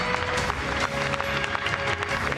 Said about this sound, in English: they keep applauding